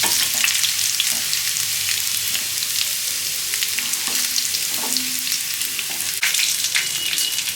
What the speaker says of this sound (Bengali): একটু আমি ফ্রাই করে দিচ্ছি তেলে